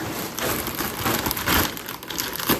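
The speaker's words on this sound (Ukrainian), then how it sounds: "Отже, відкриваю цей пакет." A plastic parcel package is torn and pulled open, giving continuous close crinkling and rustling of plastic with no talking.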